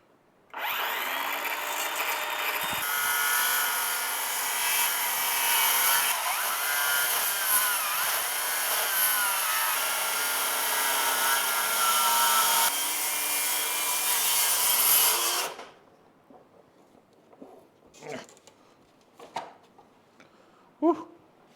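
A small Ryobi power tool cutting into a live edge wood slab, a loud, steady, strained grinding whine for about fifteen seconds that bogs slightly midway, then stops, followed by faint knocks and handling noises.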